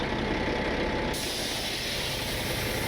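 The air brakes on a fully loaded 85,000-pound truck stuck in mud are set with a loud, steady burst of hissing air that shifts to a brighter hiss partway through, with no talking.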